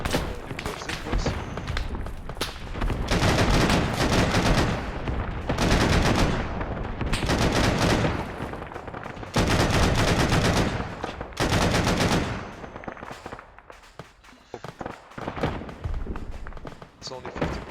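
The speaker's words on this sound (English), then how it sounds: "Oh, they're shooting." Bursts of automatic gunfire rattle loudly in ARMA 3, a military shooter game, with heavy thuds mixed in. Long sustained volleys come in waves that crowd out other sound, then thin out near the end.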